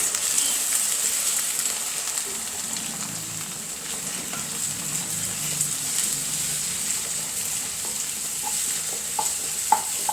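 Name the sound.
stirring food frying in pan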